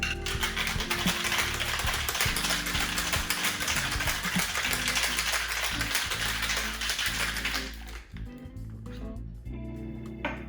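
Ice rattling hard inside a metal cocktail tin during a vigorous shake for a Tia Mia, a dense, loud, continuous clatter that stops abruptly near the end, leaving a quieter room.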